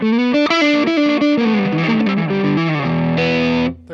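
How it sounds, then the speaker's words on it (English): An electric guitar runs through a Tube Screamer overdrive pedal into a Dr Z Carmen Ghia amp at low volume, giving a gritty, saturated lead line with bent notes and a sustained final chord, loud and close. "it sounds like a tube screamer."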